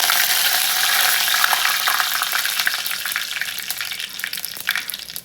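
Curry leaves dropped into hot oil for a Kerala theeyal crackle and sizzle loudly and continuously, with a dense hiss that eases slightly over a few seconds, broken by faint scrapes and ticks.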